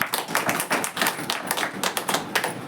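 A church congregation claps together, rapid overlapping claps forming a dense, steady patter that fills the room for a few seconds, with no voices over it.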